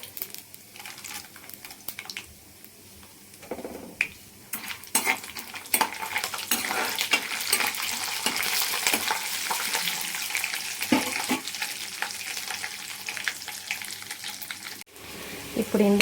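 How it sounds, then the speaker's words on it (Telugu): Onions, green chilies, dried chilies, mustard seeds, cumin and chana dal frying in hot oil for mango pulihora, a steady close sizzle with stirring clatter throughout, no talking. "ఇవి వేగుతున్నాయి"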